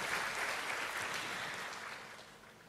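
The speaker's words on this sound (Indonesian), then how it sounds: "Beri tepuk tangan dulu ya buat Tuhan kita Yesus Kristus." Congregation clapping during a church worship service, a dense, sustained round of applause that starts strong and slowly tapers off toward the end.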